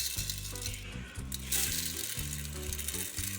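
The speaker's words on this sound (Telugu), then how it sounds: "అవిసె గింజలు చిటపటలాడుతుంది చూడండి" Flax seeds dry roasting in a pan on a gas stove crackle with a steady sizzling hiss and faint popping, a continuous close sound over a few seconds.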